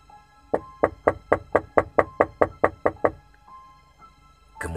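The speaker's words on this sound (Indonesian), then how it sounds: "mendengar bunyi tingkap seperti diketuk dari" Knuckles rap on a window from outside, eleven evenly spaced sharp knocks in a quick steady rhythm, close and clear, followed by near silence.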